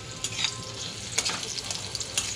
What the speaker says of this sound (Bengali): পেঁয়াজটা আমি একটু আগে প্রথমেই ভেজে নিচ্ছি